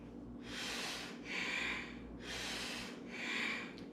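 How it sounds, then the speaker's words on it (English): Forceful Bhastrika breathing through the nose during a seated Kundalini yoga cat-cow flow, four strong rhythmic rushes of air, close and alone. "Using Bhastrika breath."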